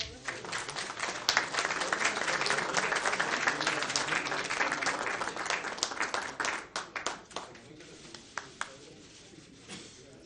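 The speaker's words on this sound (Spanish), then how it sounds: "Damos un fuerte aplauso." An audience applauds loudly at an official statement by Colombian President Juan Manuel Santos during a visit to Costa Rica, dense clapping that gradually thins into scattered individual claps before fading out.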